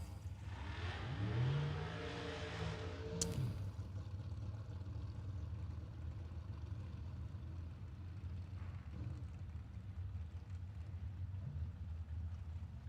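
Drag race car at an outlaw racing event, engine revving with rising and falling pitch sweeps early on, then settling into a lower rumbling idle that carries on steadily; no voices.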